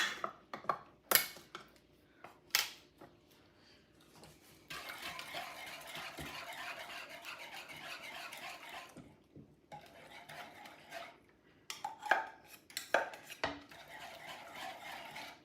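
Whisk stirs sweetened condensed milk into an egg-yolk, whole-milk and sugar ice cream base in a kitchen, a faint scraping rattle in short and longer stretches with occasional utensil clinks.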